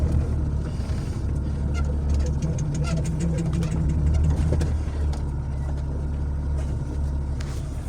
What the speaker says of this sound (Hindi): आज 2 मिनट मैंने गर्म की गाड़ी, तो इंशाल्लाह अब सीधा चलते हैं।